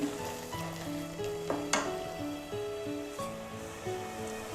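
Taro leaves and fish sizzle in a hot pan as they are stirred, a steady close frying hiss under tonal clinks and a sharp scrape of the spatula, no voices.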